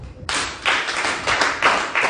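A church congregation claps for Jesus in a sermon hall, a brief burst of several loud, rhythmic handclaps in close succession.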